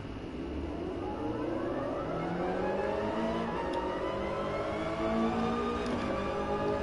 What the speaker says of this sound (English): this car sounds properly cool as well